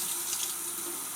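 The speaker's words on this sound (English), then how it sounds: "you can just run it under cold water" Cold tap water pours in a steady, close, hissing stream over a blackened roasted pepper, with no talking.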